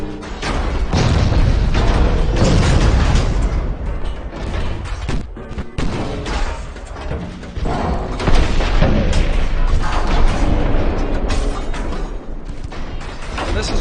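Heavy battleship guns fire shells in a naval warfare video game, a dense run of loud booms and thuds rolling continuously over a thick rumbling backdrop, with no clear pauses between shots.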